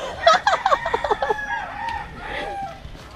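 A burst of quick, close chicken clucks, followed by softer, drawn-out calls from the flock.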